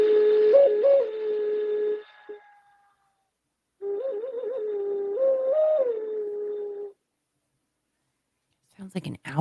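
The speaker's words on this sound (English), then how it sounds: "There's this that's like a skull that's a whistle as well, and it sounds really great." A stone skull-shaped whistle gives an owl-like hooting tone, heard in two sustained breathy blows with small pitch wavers, separated by a pause, then brief clicks at the end.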